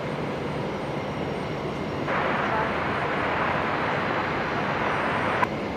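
An aircraft at Brisbane Airport, heard as a steady broadband roar that rises in strength partway through and holds, with a radio voice over it.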